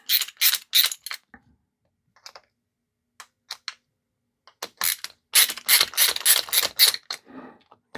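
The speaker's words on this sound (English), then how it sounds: "all I need to do is crimp this cable down here" A hand crimping tool is squeezed onto a cable, giving close, dry ratcheting clicks in two clusters separated by a few sparse ticks.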